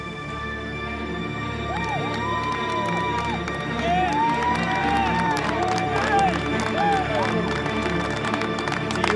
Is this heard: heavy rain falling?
no